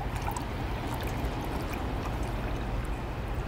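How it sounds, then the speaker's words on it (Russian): Water flowing from a spring: a steady, unbroken rush and trickle that holds at an even level throughout, with no voices. "А вот источник."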